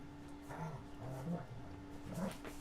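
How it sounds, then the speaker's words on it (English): Dogs whimper and give short yips and barks in a couple of brief bursts, somewhat distant and faint, during a live stream of harness work in a home workshop. "Sorry if you guys hear the dogs. They're getting rowdy."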